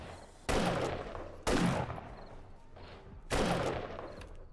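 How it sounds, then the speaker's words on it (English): Three loud, separate gunshot bursts from a firearm in the 7 Days to Die Alpha 21 video game, each a sharp crack with a ringing decay, spaced about a second apart over quiet background. "All five shots were on point."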